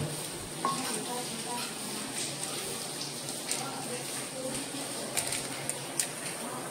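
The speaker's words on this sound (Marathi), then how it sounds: "हा कोल्हापुरी कांदा लसूण मसाला हा घालतोय." Kolhapuri onion garlic masala goes into a sizzling pan with a continuous frying hiss and a few soft stirring taps, while someone talks over it.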